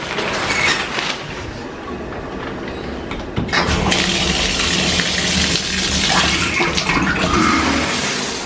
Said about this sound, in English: I'm gonna take a body shower.